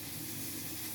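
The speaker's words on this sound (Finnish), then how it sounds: "Nyt se saa ruskistua siinä." Food browns in a hot pan with a steady, even sizzle and hiss, close by and unbroken throughout, with no voices over it.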